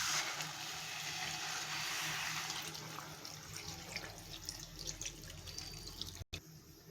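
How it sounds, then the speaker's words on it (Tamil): Water runs steadily into potato masala in a cooking pot, a loud pour that tapers off partway through, leaving a quieter bubbling and dripping. "மசாலாவுக்கு தேவையான அளவு தண்ணி விட்டுக்கலாம்"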